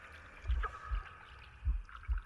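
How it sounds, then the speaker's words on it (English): Gurgling water in the video game The Last Campfire, with soft low thumps recurring at a heartbeat-like rhythm over a quiet watery background. "The gurgling of water"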